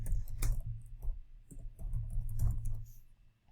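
Quick clicking keystrokes on a computer keyboard as a search keyword is entered into an SEO tool, a short close burst of irregular taps over a low steady hum.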